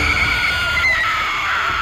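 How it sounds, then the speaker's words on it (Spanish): A woman's harrowing scream in Manhattan, loud and sustained, a single shrill cry holding for about two seconds with no speech. "Un grito desgarrador de Yoko partió el aire."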